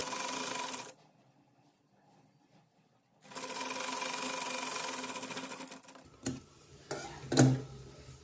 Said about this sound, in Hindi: हमारे मैनी की तरफ कपड़े को इस तरह से क्रॉस करेंगे और आधे इंच पे सिलाई चला लेंगे